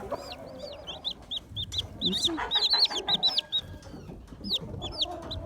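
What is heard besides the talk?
Silkie chicken clucking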